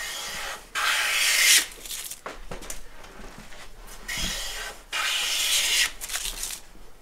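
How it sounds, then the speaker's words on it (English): A Woodriver low angle jack plane with a waxed sole takes thin shavings off a wood board in a few long rasping strokes, separated by short pauses and lighter handling noises, close and alone. "Now we can retract that and get a little thinner shaving."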